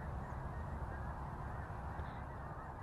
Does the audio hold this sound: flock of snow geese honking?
yes